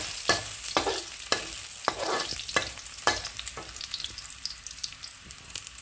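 Shallots frying in hot oil, a bright crackling sizzle punctuated by repeated sharp spatula scrapes and knocks against the pan, nearby and without talk.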